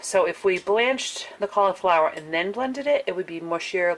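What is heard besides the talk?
None of the usual background noises is heard.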